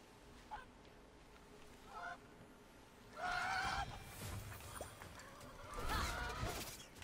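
Rooster-like bird calls from Immortals Fenyx Rising, several short honking crows spaced across the moment with a louder, longer squawk midway and another near the end over low game ambience, no talking.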